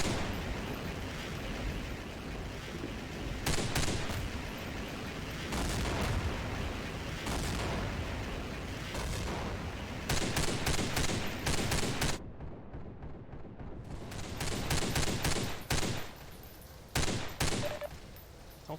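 A turret in the Half-Life 2 Get A Life mod fires in loud, rapid sustained bursts, with brief pauses between volleys and a short silent gap before the firing resumes.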